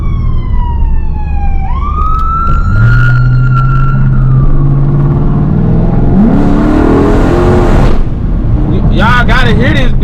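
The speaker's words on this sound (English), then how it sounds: "I'm hearing the siren." A loud siren sweeps and wails while a car engine revs and roars nearby, ending in rapid warbling siren tones.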